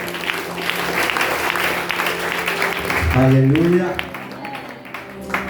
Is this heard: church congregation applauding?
yes